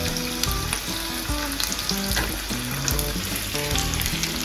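Curry leaves crackling in hot oil with onions and dried chillies for a buttermilk rasam tempering: loud, dense sizzling up close, with spoon clatter and stirring knocks scattered throughout and no voices.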